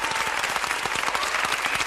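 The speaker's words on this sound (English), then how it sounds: "Let's get a round of applause." Round of applause from a crowd: steady, dense clapping lasting under two seconds, fairly loud and even throughout.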